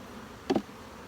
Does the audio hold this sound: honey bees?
yes